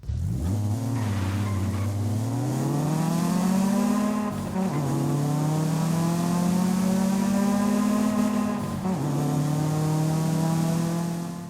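A Nissan Tsuru's GA16 engine in Forza Horizon 5 revs up and holds, falls back briefly, then climbs and holds again: a loud, close, buzzy four-cylinder drone with clear dips between pulls.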